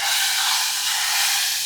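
Hot spiced oil tempering poured into a pot of dal, giving a steady, loud sizzling hiss that holds evenly from start to finish with no voices over it.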